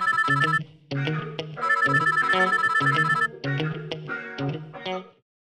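A melodic phone ringtone plays loud and clear in repeating phrases with short gaps between them, then stops abruptly. No voices are heard.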